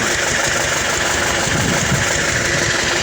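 A tractor engine runs under load while pulling a plough through a field, a loud, close, steady rumble with constant vibration.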